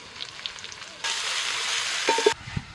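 Ginger garlic paste, green chilies, mint and coriander sizzle steadily in hot oil for quail biryani, a bright frying hiss that swells loud for a stretch, with faint stirring clinks near the end.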